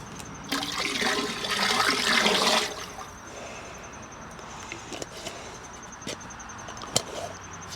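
Forty gallons of sugar water pours into a tank on a pickup truck, a loud rushing gush for about two seconds that cuts off, leaving quiet background with a few faint knocks and clicks.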